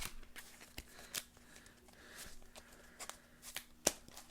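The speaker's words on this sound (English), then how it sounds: "So let's shuffle and let's try once again." A deck of Yu-Gi-Oh cards is shuffled in quiet, soft riffles and papery flicks repeating unevenly, with a sharper snap near the end and no voices.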